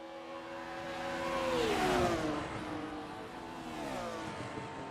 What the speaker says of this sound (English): these are the type of cars that you can feel the sound coming past. Yeah, listen to this as they come down the straight